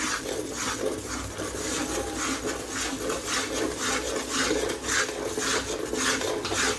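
Gram flour being stirred into hot ghee in a pan for besan ladoo: a steady scraping and rubbing of a spoon against the pan, continuous and moderately close, with faint background hum and no voices.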